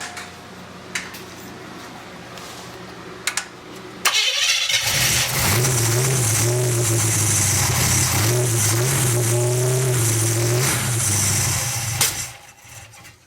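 After a quiet stretch with a few clicks, a 350 engine in an SS cranks and fires, then runs loudly with uneven revving before easing off at the end.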